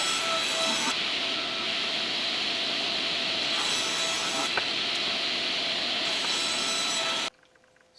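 A power saw rips wood panels to width for an amp head cabinet, giving a steady, loud, continuous cutting whine up close that runs for several seconds before cutting off abruptly.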